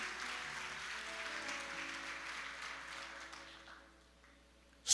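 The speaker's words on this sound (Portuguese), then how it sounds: "Quem pode aplaudir Jesus por isso, irmão?" A church congregation applauds steadily, the clapping gradually fading out toward the end.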